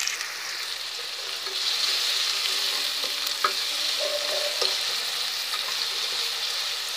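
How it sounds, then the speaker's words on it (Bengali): Onions frying lightly in a pan with a pinch of salt, the start of a zucchini curry, make a loud, steady sizzle with stirring scrapes throughout and no talk. "পেঁয়াজটা হালকা একটু ভেজে নিব"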